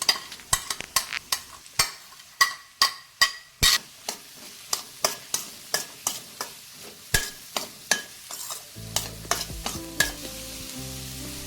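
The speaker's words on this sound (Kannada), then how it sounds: "ಮೊಟ್ಟೆಯನ್ನು ಫ್ರೈ ಮಾಡಿದ ಎಣ್ಣೆಯಲ್ಲಿ ಈಗ ಈರುಳ್ಳಿಯನ್ನು ಚೆನ್ನಾಗಿ ಫ್ರೈ ಮಾಡೋದು" Onions stirred in hot oil left over from frying eggs for an egg ghee roast: a steady sizzle with repeated sharp spatula scrapes against the pan, close and rhythmic, with a low hum joining near the end.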